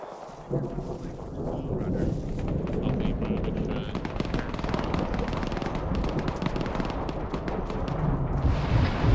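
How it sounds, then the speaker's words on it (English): Distant gunfire and grenade machine gun explosions in the military shooter ArmA 3, a rumbling mass of bursts and booms going on continuously with wind noise on the microphone. "hearing a lot of gunfire, GMGs exploding and no contact reports"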